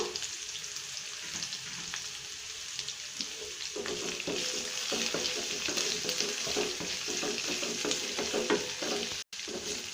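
Onion and green chilies sauté in a pan for bean and moong dal kootu, a steady crackling sizzle with frequent scraping stirs that grow busier partway through, close and even, no speech.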